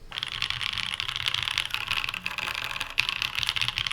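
Dense, steady clatter of typing on a mechanical keyboard fitted with black ink and cream switches, continuous and close with quick keystrokes and a few sharper clacks.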